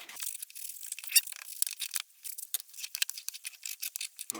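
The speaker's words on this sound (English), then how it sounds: "Make sure you scrub that window on down." Scrub pad rubbing briskly over a Honda Prelude quarter window being cleaned for tint, a close, dry scratchy rasping in quick irregular strokes with no talking.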